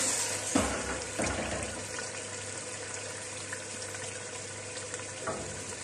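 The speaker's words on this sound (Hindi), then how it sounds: "इसमें सिर्फ 1 कप पानी डालेंगे" A cup of water pours onto small chicken cubes in a cooking pot for dum pukht biryani, making a steady, close splashing hiss that fades into a gentle sizzle.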